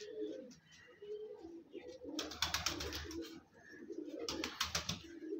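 Teddy pigeons, a breeder pair, coo in soft repeated throaty bursts at close range, with a second louder cooing phrase following a brief pause.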